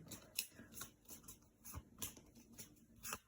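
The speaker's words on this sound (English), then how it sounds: "I'm going to shuffle the cards and see which card wants to come out for Mrs. Mystic." Botanical Inspiration oracle cards being shuffled by hand, a run of close, quiet riffling bursts and soft papery flicks repeating at an irregular, fairly quick rhythm with no talking.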